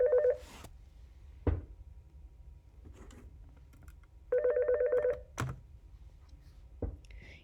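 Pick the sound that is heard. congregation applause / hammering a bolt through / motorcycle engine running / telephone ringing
telephone ringing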